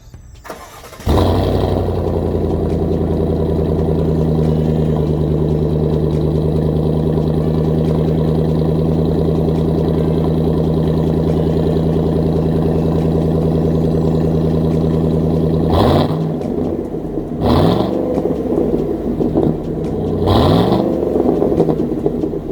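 A 2019-2020 Chevy Silverado 1500 with the 5.3 engine and Borla Atak exhaust starts up close by and settles into a loud, steady idle with deep rumbling tones, broken near the end by three quick revs.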